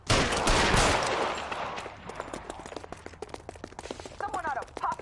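Gunfire in the video game Rockstars: a loud opening burst fades into a rapid string of sharp cracks and clatters. Voices talk over the shooting.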